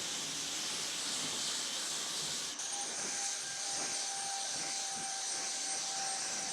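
A Ryobi 1800 electric pressure washer runs continuously with a steady loud hissing spray and a thin high whine, with no break and no talking.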